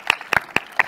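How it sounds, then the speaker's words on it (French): Four separate, crisp hand claps spaced roughly evenly at a conference closing keynote, sparse and isolated rather than a full crowd ovation. "Bravo, on applaudit"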